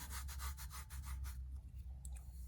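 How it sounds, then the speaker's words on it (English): A coffee mug's surface is rubbed with quick, rhythmic back-and-forth strokes, each a short abrasive scuff, close and fairly quiet, fading out after about a second and a half into soft handling sounds. "So just take it, rub it,"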